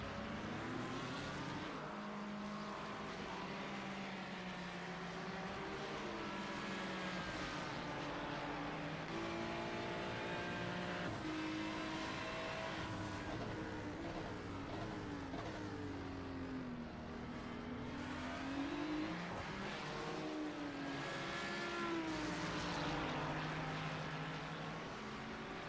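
Ferrari race car engines roar and rev continuously in a sim racing league game, several cars rising and falling in pitch together as they battle closely, with no talking.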